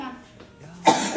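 At a small clinic, a child with a cough lets out a single short, harsh cough close by, following a moment of faint voice and quiet room sound.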